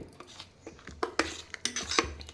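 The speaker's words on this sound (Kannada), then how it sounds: "ಇದಕ್ಕೆ ನಾವು ಏನು ಮಜ್ಜಿಗೆ ಕಟ್ಕೊಂಡಿದ್ದೀವಲ್ಲ ಅದನ್ನು ಹಾಕ್ಕೊಂಡ್ಬಿಡ್ಬೇಕು. ಹಾಕಿ ನೀಟಾಗಿ ಮಿಕ್ಸ್ ಮಾಡಿಬಿಡಿ." A spoon scraping and clinking against a pan while buttermilk is stirred into a ground cucumber mix for tambuli, quick irregular metallic taps and scrapes, close and fairly quiet.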